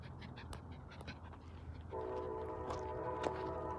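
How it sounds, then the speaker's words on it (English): A distant train approaching near a railway tunnel in Newhall Pass rumbles with a steady, sustained horn-like tone, alone without voices. "I can hear a train coming, but I can tell that it's behind me"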